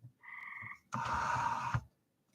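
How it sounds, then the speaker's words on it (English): A single frog croaks at night, two separate calls close by: a shorter tonal croak followed by a longer, louder buzzing one, then quiet. "we're being serenaded by the frogs tonight"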